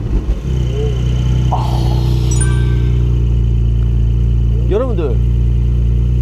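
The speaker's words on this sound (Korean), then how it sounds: "자, 시동을 한번 살짝 한번 걸어보도록 할까요?" A Porsche Boxster 4.0 GTS fires up and settles into a deep, loud, steady idle with a brief blip of revs, while someone speaks over the engine near the start.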